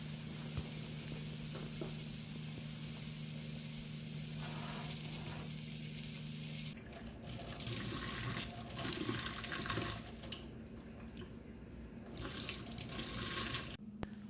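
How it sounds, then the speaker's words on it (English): Water pouring steadily from a pot of boiled tripe into a sink, a continuous close splashing rush that shifts and grows brighter partway through, with kitchen hum in the background. "Now I'll be pouring off the water."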